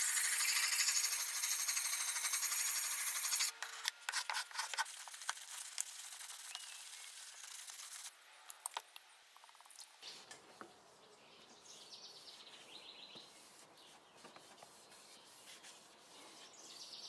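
A Bolo machete blade is sanded and polished by hand: a few seconds of steady, loud abrasive rasping, then softer intermittent scraping strokes that fade to quiet rubbing.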